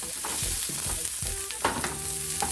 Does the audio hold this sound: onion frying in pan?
yes